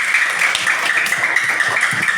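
A classroom of students claps for a classmate, with a brief, dense burst of steady applause filling the room.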